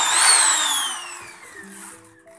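A KPT 563 electric drill machine, switched on from a board, gives a loud high motor whine whose pitch slides steadily downward as it winds down over a couple of seconds.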